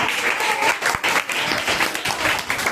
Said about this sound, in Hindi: शाबाश, बजा दो तालियां